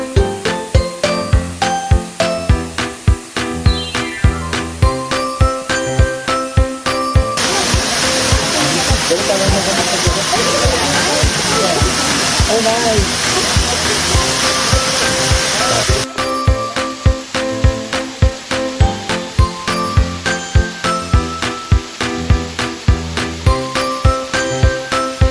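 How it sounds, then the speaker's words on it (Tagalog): A waterfall and river pour with a loud, continuous roar during the middle stretch, while jingly music plays before and after it. "ang ganda ng falls po at ilog dito sa lugar na to"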